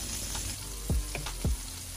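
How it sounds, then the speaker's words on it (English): Chicken frying in a pan gives a steady close sizzle, with a couple of brief clacks or scrapes of a utensil against the pan. "Listen to that sizzle."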